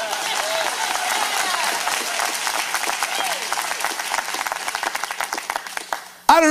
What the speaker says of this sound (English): let's clap on the count of three